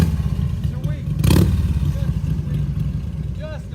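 A limited edition Springer motorcycle engine rumbles and revs close by, with a sharp burst of throttle partway through over a steady low-pitched idle.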